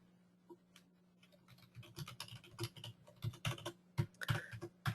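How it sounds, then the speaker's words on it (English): Fingers tap quickly on a computer keyboard while an email address is entered, a close, quiet run of irregular clicks over a low steady hum, growing busier and louder toward the end. "what you can do is type an email address"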